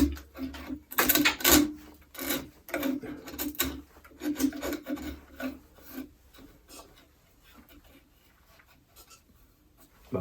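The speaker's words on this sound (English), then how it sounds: "Sand that by hand." Rhythmic rasping strokes of sandpaper rubbing on wood, loud and close at first, then lighter and sparser toward the end.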